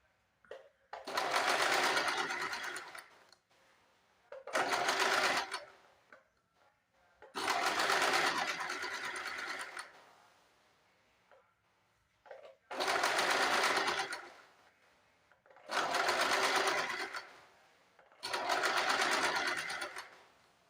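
Sewing machine running in six separate bursts of straight stitching along all four sides of a lined piece of fabric, each burst a few seconds long, with short quiet pauses between them.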